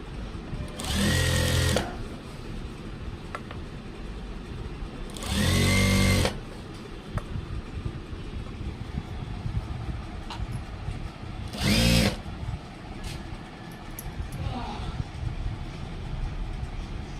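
A sewing machine stitches a skirt in three separate bursts of fast needle chatter, each a second or so long, with quiet pauses between them.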